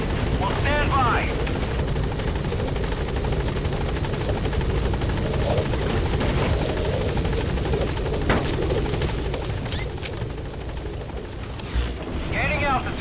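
A helicopter in Metal Gear Solid V: The Phantom Pain lifts off with a loud, steady rotor thrum throughout, with brief radio voices near the start and end and occasional distant booms.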